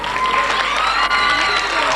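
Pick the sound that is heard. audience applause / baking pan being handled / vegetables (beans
audience applause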